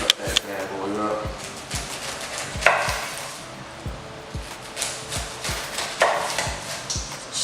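A knife chopping through a pineapple on a cutting board, a brisk run of sharp, evenly spaced knocks and taps, close and moderately loud, while someone talks quietly throughout.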